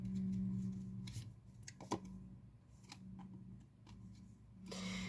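A card drawn from a tarot-style deck gives a few soft, close snaps and slides, set apart by quiet gaps, with a faint low hum in the room.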